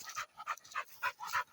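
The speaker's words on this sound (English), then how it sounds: "Rex dog" A Rex dog pants close up in quick, rhythmic breaths, with a faint whimpering edge on some of the pulses.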